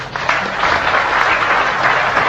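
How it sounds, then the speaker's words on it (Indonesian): A crowd applauds steadily, a dense wash of many hands clapping at moderate volume throughout with no gaps. "tepuk tangan untuk beliau"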